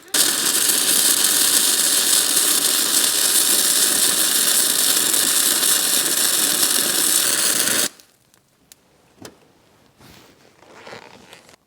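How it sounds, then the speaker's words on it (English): A Troozy 135E MIG welder running a bead along a V groove, a loud steady crackling buzz for about eight seconds that stops abruptly, followed by quiet clicks and light handling noises. "So we're ready to just make this weld and see how it turns out."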